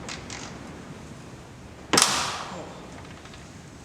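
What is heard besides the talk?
removing tailgate bolt with a 10mm wrench on F-150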